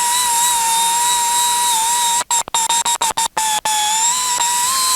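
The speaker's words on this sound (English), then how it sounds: "So I'm using this 1/4 inch angle die grinder, and boy, it works really nicely." A quarter-inch angle die grinder whines at a steady high pitch, close and loud, while smoothing a restored Wilton C2 metal vise, with a few quick cutouts midway before the tone resumes.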